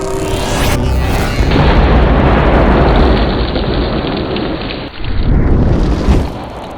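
A huge explosion tears through an industrial complex on a stormy night in a post-apocalypse ecosystem simulation, a loud, sustained rumbling blast that rolls on for several seconds with a second surge near the end.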